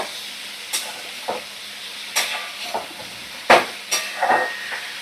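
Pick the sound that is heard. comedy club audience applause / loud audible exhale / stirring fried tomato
stirring fried tomato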